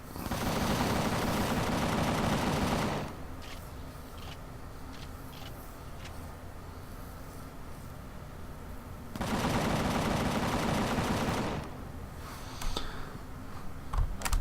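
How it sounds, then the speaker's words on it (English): Bursts of rapid automatic gunfire from a video game cannon shooting down drones, two long loud volleys separated by quieter stretches of clattering game noise. "Let's watch our cannon take them out."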